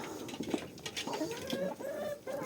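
Hens cluck and murmur while eating a new feed ration, several birds close by giving short, irregular clucks and soft rising calls, with pecking and scratching noises between them.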